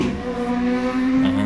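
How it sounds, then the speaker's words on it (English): A car driving fast outside, heard as a loud, steady engine drone with a rising pitch near the end, sounding close by and alone. "someone's driving a crazy car outside"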